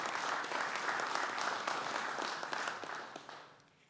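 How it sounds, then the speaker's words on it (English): Council members and attendees at a city council meeting applaud a colleague's birthday with a soft, continuous patter of clapping that tapers off near the end. "Let's have a round of applause for her."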